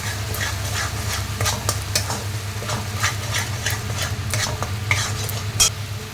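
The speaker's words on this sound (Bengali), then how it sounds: "এরপর এর মধ্যে আমি মিশ্রণটা দিয়ে ভালো করে কষাতে থাকবো।" Egg korma masala mixture with three green chillies is stir-fried in a pan: a steady close sizzle with repeated scraping stir strokes throughout, and no voices.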